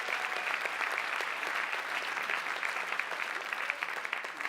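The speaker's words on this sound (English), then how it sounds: "Round of applause if you go to the Christmas Eve service." A comedy show audience breaks into sustained applause, a steady, fairly distant patter of many hands that holds evenly for several seconds without talk.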